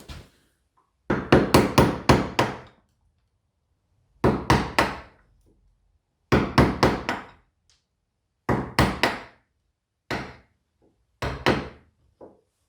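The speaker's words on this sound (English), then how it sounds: "I'm going to go with another gouge, trying to clean up the waste as much as I can before I go with the paring chisels." Mallet striking a gouge to chop dovetail waste from a wooden jewelry box by hand: groups of four or five sharp, loud woody knocks separated by quiet pauses, close and alone.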